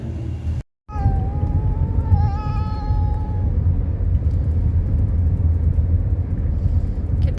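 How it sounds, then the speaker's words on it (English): A cat yowls loudly inside a moving car on a road trip out of California, one long wavering meow after a brief dropout, over the steady low rumble of the road. "my cat sings his song of agony"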